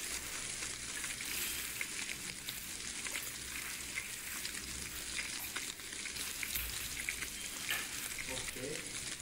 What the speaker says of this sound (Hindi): तो आप आवाज़ सुन रहे हैं सिज़लर की,